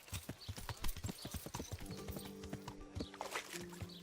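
A horse's hooves clip-clop in Kingdom Come: Deliverance, a quiet, quick, rhythmic run of hoofbeats that continues throughout, joined in the second half by sustained tonal sounds.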